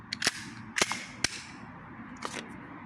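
Airsoft gas pistol test-fired during a repair, giving three sharp, loud pops in close succession followed by a fainter fourth shot, with no talk over it.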